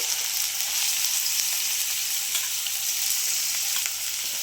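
Chopped onions frying in hot oil in a pan, a loud, steady hiss of sizzling with faint stirring ticks, close and unbroken, no speech.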